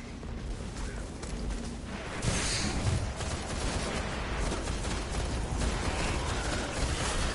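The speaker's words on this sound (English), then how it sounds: "There's a lot of bullets happening right now." Video game gunfire, dense overlapping bursts and rattling shots forming a continuous barrage that swells louder partway through and stays busy to the end.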